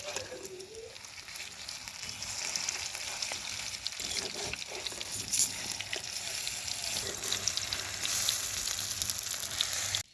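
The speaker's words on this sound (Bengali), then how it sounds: "এই যে সবগুলো ডিমের চপ একদম লাল লাল করে ভেজে নিলাম" Egg chops frying in hot oil, giving a continuous close sizzle and crackle with light spattering and occasional stirring for about ten seconds.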